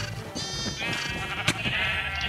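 Sheep bleating in Minecraft, a few wavering bleats amid a dense, busy game soundscape with steady background noise.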